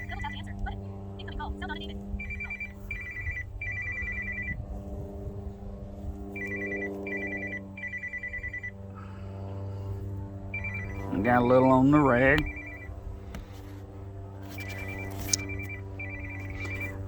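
A telephone rings in repeated electronic bursts, the ringtone recurring several times at a steady interval over a low hum, while someone talks intermittently.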